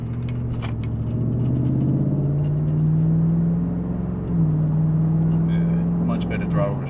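A 5.3L truck V8 fitted with an L86 air intake and ZR1 throttle body revs up with a loud, deep rising drone, easing briefly before pulling again, heard from close by inside the cab.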